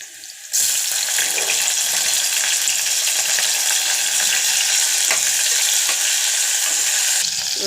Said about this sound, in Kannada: ಇವಾಗ ಟೊಮೊಟೊ ಹಾಕ್ತಾಯಿದ್ದೀನಿ.